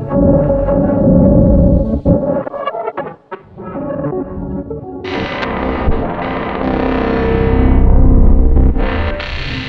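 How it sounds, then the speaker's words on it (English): Mimeophon delay unit replaying recorded sounds a few seconds later, a dense, distorted and effected wash of layered tones that drops away briefly before a bright, sustained swell builds and holds loudly through the end. "record whatever I do and will play it back after 5 to 10 seconds"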